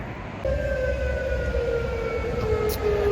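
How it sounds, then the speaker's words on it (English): Air raid sirens drone a steady tone with a slowly falling pitch, carrying over a low rumble of background noise, fairly distant, on Jeju Island. "Air raid sirens."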